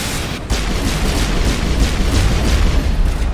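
A grenade blast in the Mass Effect game, a loud broadband boom that starts abruptly and rolls on as a sustained rumble and roar for several seconds, with no talk over it.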